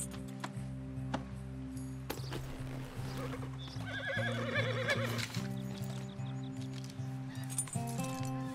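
A pony in Red Dead Redemption 2 whinnies loudly mid-clip while hooves clip-clop and shuffle nearby, set against a low, steady ambient music bed.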